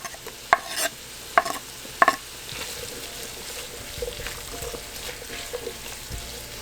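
Onions and peppers sizzle in a pan with bacon and cabbage, opening with three sharp knocks of utensils against the pan, then a steady close frying hiss with light stirring and no voices.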